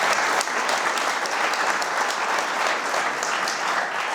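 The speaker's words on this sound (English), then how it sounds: "I think we should give them all a round of applause." Conference audience applauding panel speakers at an industry session, a continuous even burst of many hands clapping at close range, steady from start to finish.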